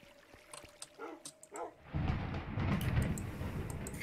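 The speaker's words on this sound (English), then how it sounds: "That thunder is really going," Thunder in a Minecraft-style game with a resource pack: after a few scattered clicks and sounds, a deep rolling rumble starts and keeps grumbling loudly for several seconds.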